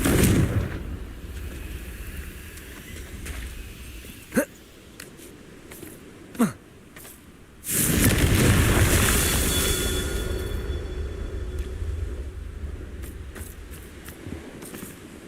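Confringo blasting-spell explosions from Hogwarts Legacy burst out in a few sudden cracks, then a big roaring blast that swells and slowly fades under a steady noisy backdrop, with talk running through.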